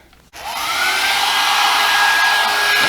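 A Revlon hair dryer brush switches on after a brief quiet moment and keeps up a loud, steady whooshing roar with a faint high whine, close by.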